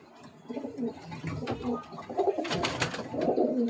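Breeder pigeons in a home loft in Kolkata coo in low, throaty bursts that repeat and overlap, fairly close and steady, with some flock rustle mixed in.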